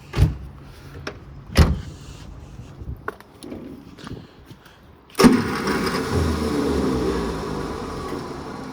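Peugeot 205 engine cranking and catching after the key is turned, preceded by several sharp clicks and knocks, then settling into a steady, close idle for the last few seconds.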